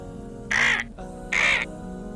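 A crow gives two loud, harsh caws, evenly spaced about a second apart, close and clear over a faint background hum.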